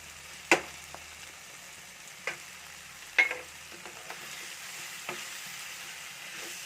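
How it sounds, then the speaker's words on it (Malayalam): Ground chili and coriander masala with onion and tomato is stirred into chicken in a pan, a quiet low sizzle broken by a handful of sharp spoon clinks and scrapes spaced a second or two apart. "നല്ലപോലെ അത് കൂട്ടി ഇളക്കിയിട്ട് നല്ലപോലെ കൂട്ടി യോജിപ്പിക്കണം."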